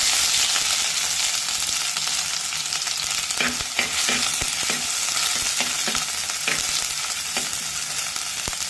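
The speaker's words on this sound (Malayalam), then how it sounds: "അതിലേക്ക് ചതച്ച് വെച്ചിരിക്കുന്ന ഇഞ്ചിയും വെളുത്തുള്ളിയും ഇട്ട് കൊടുക്കാം." Crushed ginger and garlic sizzle and fry steadily in hot oil with mustard seeds already popping, for a Pathanamthitta-style kera fish curry; a continuous close crackle runs throughout, with occasional stirring clicks and no talking.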